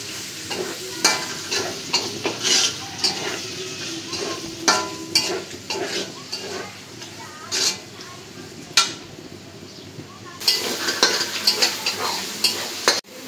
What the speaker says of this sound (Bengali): পেঁয়াজটা বাদামি করে ভেজে নিতে হবে।